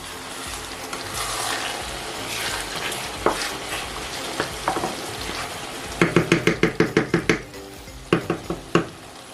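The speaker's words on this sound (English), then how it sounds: "some grated nutmeg, which I'm going to grate right now" Nutmeg is grated over a simmering Nigerian ayamase stew, giving a quick run of about ten rhythmic scraping strokes and then a few more, all close above a low background sizzle, with no talk.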